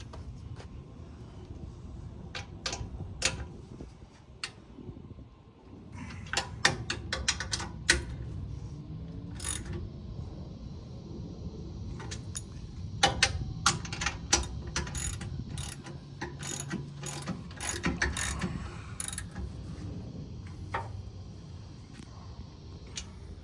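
A ratchet tightening bolts on Dexter electric trailer brakes during an install, with repeated clicking pawl strokes in irregular runs over low background rumble.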